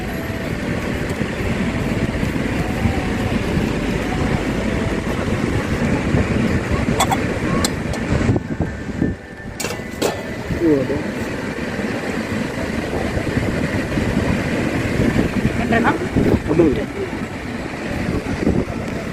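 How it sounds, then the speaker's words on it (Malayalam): Strong ocean surf at Payyambalam beach roars as a dense, continuous wash, mixed with wind buffeting the microphone and a brief dip midway. "ഭയങ്കര തിരയാണ്"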